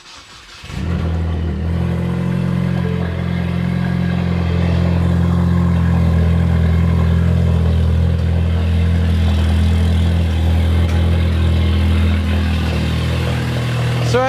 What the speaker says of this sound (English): there is a fake wastegate on the car and it broke. So the car is extra loud and it sounds not too good.